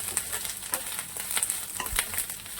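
Coriander leaves crackle and sizzle in hot oil for a Bengali fish curry, a steady close frying hiss with scattered small pops and no voices.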